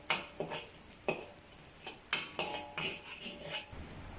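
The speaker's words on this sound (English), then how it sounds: "Add a teaspoon of chopped garlic to saute until aromatic and slightly brown." Chopped garlic sautés in oil in a wok for a Cantonese asparagus chicken stir-fry. A soft sizzle runs under a series of sharp spatula clacks and scrapes against the metal, fairly quiet overall.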